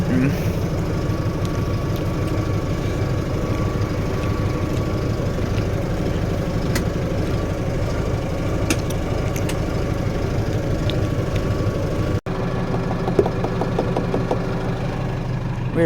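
A car engine idles steadily with a low, knocking rumble that continues throughout, interrupted only by a brief break near the end.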